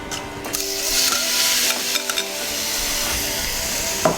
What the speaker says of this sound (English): We're going to start with our shrimp. Start to cook that off